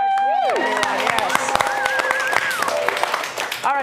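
A studio audience at a live comedy show applauds and cheers, a dense, loud wash of clapping mixed with crowd noise and bright tonal sound effects, continuing steadily for several seconds.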